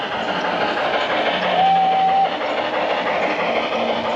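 A model train runs through the train garden at the Germany Pavilion in EPCOT, giving a soft, steady rolling rumble with light clacking. A brief tone sounds in the middle against outdoor ambience, and no one speaks.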